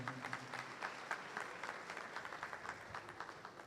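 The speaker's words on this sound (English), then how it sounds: "A loud round of applause to the university." A crowd at KNUST's 70th anniversary exhibition event in Ghana gives a round of applause for the university. Steady, rhythmic clapping from many hands sounds somewhat distant and quiet, with no voices over it.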